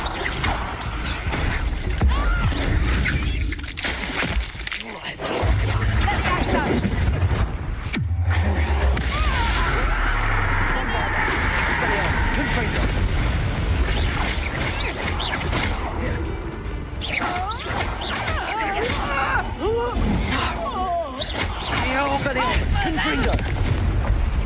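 Confringo and Bombarda spell blasts in Hogwarts Legacy combat, sharp booming impacts and crashing bursts among clattering game effects, with spoken spell incantations and other voices throughout.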